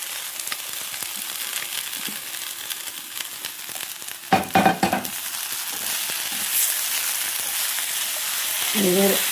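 Cooked green banana stir fry being stirred in a pan for a Kerala-style mezhukkupuratti, a steady sizzle with a burst of scraping and clatter midway and another brief stir near the end.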